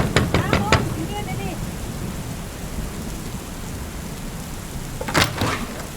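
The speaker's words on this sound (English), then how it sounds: "The rain's making a right old racket." Heavy rain pours steadily on a house in a dense, constant hiss, with a few sharp knocks at the start and a loud thump near the end, and no talking.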